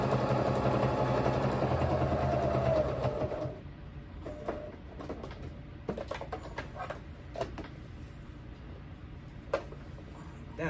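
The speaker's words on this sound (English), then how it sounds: "Making sure that I do a back stitch over where the straps meet the fabric, the body of the apron." A sewing machine back-stitches where apron straps meet the body of the apron. It gives a steady, fairly loud whir for about three seconds, then stops, leaving faint handling clicks and taps.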